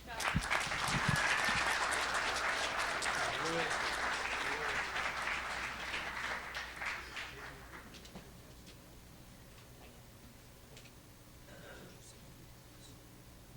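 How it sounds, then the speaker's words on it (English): A crowd applauds after a student pitch at a school entrepreneurship showcase, clapping strong at first and gradually thinning, fading to near quiet by the end, with murmuring voices underneath. "Let's give him another big round of applause."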